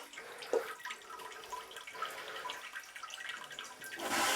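An Eco-NOVA bidet seat runs its posterior wash, a thin, steady spray of water with light dripping and trickling that swells into a louder rush at the end.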